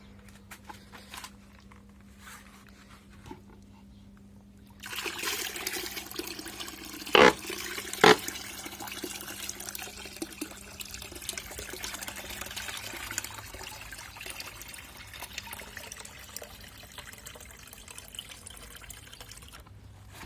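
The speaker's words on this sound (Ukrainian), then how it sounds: "Наше завдання треба залити сюди просто чистої води." Clean water pours into a jar of cucumbers being pickled, a steady splashing stream that starts abruptly and runs continuously, with a couple of brief knocks partway through.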